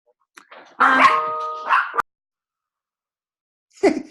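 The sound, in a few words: dog barking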